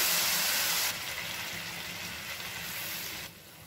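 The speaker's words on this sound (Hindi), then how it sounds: "तो अब हम इसमें डेढ़ कप पानी डाल देंगे" Water poured into a hot pan of roasted vermicelli, a fairly faint hissing splash at first that settles into a steady sizzle and bubbling steam, heard on its own without talking.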